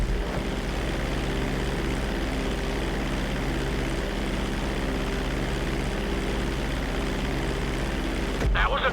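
Airplane flying during flight school in the GTA V video game: a steady, loud engine drone that holds for the whole stretch, with a brief burst of noise right at the end.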